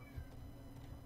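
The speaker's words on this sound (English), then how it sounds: "I hear an ocelot." An ocelot meows in the Minecraft video game, a short cat cry with a soft rise and fall, faint behind steady low background hum and game ambience.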